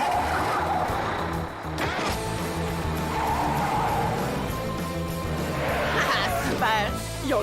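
A cartoon car revs up, accelerates and skids with squealing tires, engine noise rising and falling, while voices and effects overlap in the busy mix.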